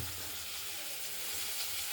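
Pieces of rohu fish frying in hot oil, a dense, steady sizzle filling the whole stretch without a break, close and fairly loud.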